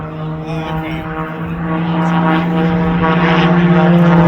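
A big-engined propeller aerobatic airplane performs a torque roll at an air show in Battle Creek, Michigan, giving a loud, sustained buzzing engine drone that swells slightly and holds steady, with an announcer's voice beneath.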